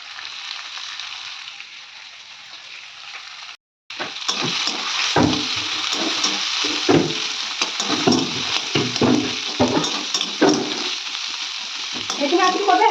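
Onions and green chillies sizzling in oil alongside fried eggplant, a quiet hiss at first, then louder frying with repeated stirring scrapes and clatters after a brief gap.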